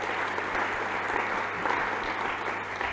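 An audience at the HEC Alumni general assembly applauds, a steady, even wash of many hands clapping, moderately loud and unbroken for the full length.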